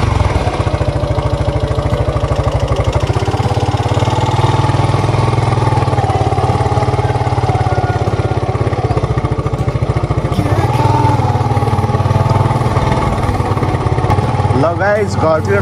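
A motorcycle engine drones steadily during a ride, a constant close hum with a rattling edge that carries through the whole stretch, with voices now and then over it.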